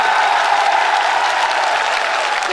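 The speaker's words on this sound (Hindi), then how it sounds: "ऐसे कमजोर तालियों से काम नहीं चलेगा, जाना चाहिए दिल्ली तक आपकी तालियां।" Crowd applause at an outdoor political rally held at a bus stand, a steady dense wash of clapping that stays loud and even throughout, with no speech over it.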